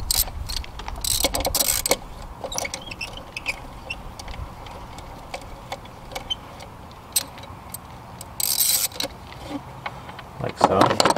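A ratchet loosens a 10 mm bolt on a hose clamp near the valve cover of a Lexus GS300, GS350, IS350 or IS250 engine, giving short bursts of close clicking between quiet pauses.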